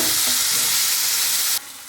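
Whole wheat bread coated in besan sizzles steadily in a pan over a slow flame, with a loud, continuous close-up frying hiss that drops in level near the end.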